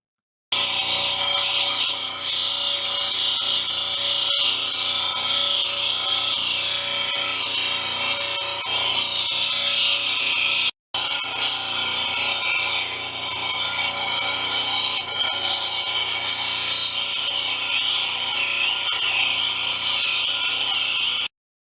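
A 220 grit grinding wheel shapes and smooths a stone cabochon with a steady, loud, high-pitched whir and scraping hiss that runs continuously, broken once by a brief pause, without any voices.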